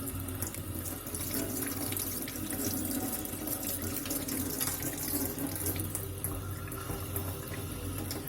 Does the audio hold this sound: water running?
yes